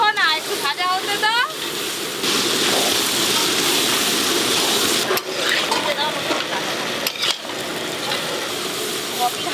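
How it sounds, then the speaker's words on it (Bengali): Onion, ginger and garlic frying in a pan: a continuous loud sizzle with stirring scrapes close by, and a voice talking over it at the start. "পেঁয়াজ আদা রসুন ভালো করে ভাজো"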